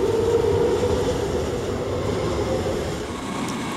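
A DB class 420 S-Bahn electric train of the Rhein-Main network rolls past close by, a steady loud rumble with wheel noise and a faint whine that eases slightly toward the end.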